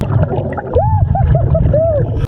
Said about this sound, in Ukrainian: Сучасні моделі Apple Watch використовують низькочастотні звуки для видалення води із динаміків